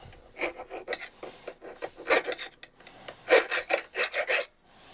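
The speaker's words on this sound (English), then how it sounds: "I'm going to attempt to deburr them by hand" Metal parts for a Freddy Krueger-style glove being deburred by hand with a file, giving close, loud rasping strokes in irregular bursts with brief pauses between them.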